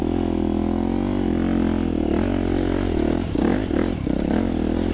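A Honda CRF250R Works Edition dirt bike engine runs steadily close by, a loud continuous drone with a brief dip and roughness near the end, with no talk.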